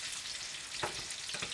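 Frozen ripe plantains sautéing in butter, a steady close frying sizzle with a couple of soft stirring strokes, fairly quiet.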